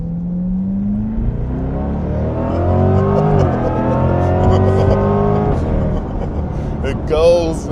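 A Chevrolet Corvette C8 accelerates with a rising engine tone that climbs steadily, heard from inside the cabin beneath ongoing conversation between occupants.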